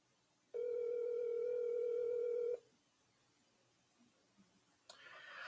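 A phone rings on the line while the caller waits for an answer: one steady electronic ring tone lasting about two seconds, followed by quiet and a faint rustle.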